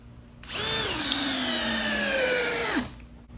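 A cordless drill in speed 2 drives a 5/16 by 5-inch structural screw into wood, its motor whining steadily and dropping in pitch under load for about two seconds before cutting out abruptly, close and loud with no talking.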